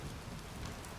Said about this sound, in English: The rain had picked up speed, darkening the stone streets of London.